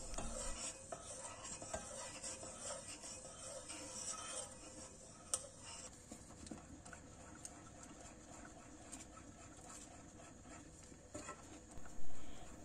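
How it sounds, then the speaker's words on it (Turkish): A spoon stirs a pot on the stove without pause, a continuous soft scraping and faint sizzle with occasional light clicks against the pot, with no voices. "Ocağımızı yakıp tenceremizi ocağa alıyoruz. Hiç durmadan karıştırıyoruz."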